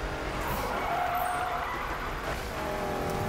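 A Ford Mustang drifts in Need for Speed 2015, with a steady roar of engine and tire squeal and skidding running continuously under a busy game mix, no talk over it.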